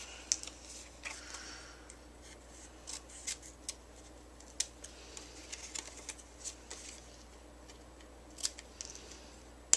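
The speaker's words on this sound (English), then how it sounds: "we're just going to go down the side with your scissors just a little bit" Faint, intermittent snipping of scissors cutting paper, soft irregular clicks and rustles in a quiet room.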